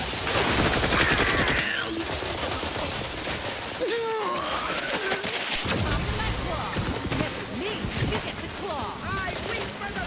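Sniper and mixed gunfire in The Outer Worlds 2 video game, a dense, steady battle din of shots with in-game voices and effects layered over the fighting.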